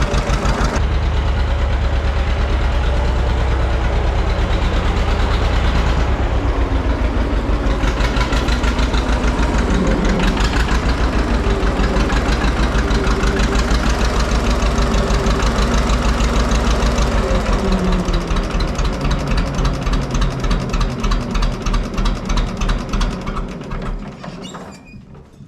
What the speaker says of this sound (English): It started up like a dream, started really easy.